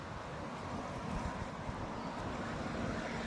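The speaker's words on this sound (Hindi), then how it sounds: "ये देखो कितनी तेज हवा चल।" Strong wind blows outdoors at a house on a sunny day, a steady broadband rush and microphone buffeting that holds at a moderate level throughout, with no talking.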